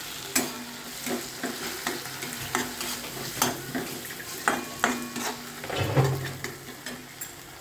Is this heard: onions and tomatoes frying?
yes